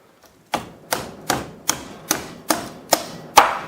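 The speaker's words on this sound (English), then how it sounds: "A nut cracker will help you break the shell." Nutcracker cracking a cooked lobster shell at a Chinese seafood restaurant table: eight sharp, evenly spaced snaps close up and fairly loud, with no voices.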